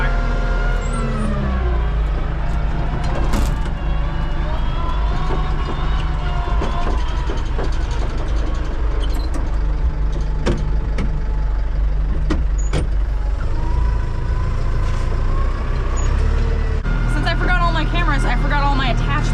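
A tractor with a loose, unbolted loader bucket drives along with a steady, close engine drone, scattered clanks and rattles, and occasional squeaks, while a person talks over it.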